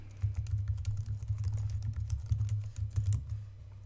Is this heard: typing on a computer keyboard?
yes